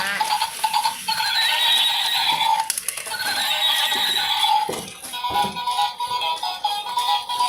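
A battery-powered toy horse lets out loud, long electronic neighs and whinnies with faint clip-clop, sounding close and continuous for several seconds.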